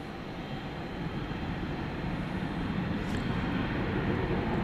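An airliner taxiing at Dallas Fort Worth Airport at night, a steady broad engine rumble and roar heard from a distance, continuous and slowly swelling, with no voices.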